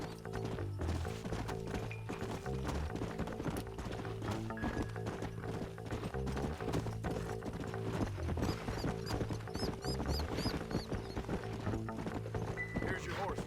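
Steady horse hooves clip-clopping in a quick rhythm over game music in Red Dead Redemption, continuous throughout.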